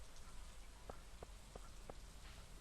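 Steady soft rain in the Stardew Valley video game, a faint even hiss with a few light drip-like taps, no talking.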